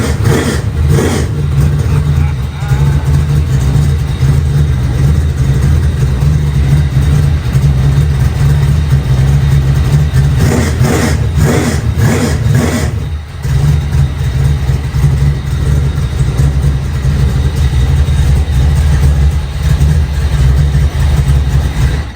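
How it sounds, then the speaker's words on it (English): A custom-built race car engine idles loudly and roughly up close, then blips and revs hard in several sharp bursts around the middle, with a brief dip before settling back into a heavy, continuous rumble. "let's just have some fun and listen to and see a custom-built race car that Brett has got"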